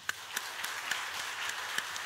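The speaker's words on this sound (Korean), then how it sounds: "우리 박수 한번 칩시다." A church congregation claps in scattered, fairly quiet hands, the individual claps standing out in an uneven rhythm over a soft wash of background clapping, with no voices heard.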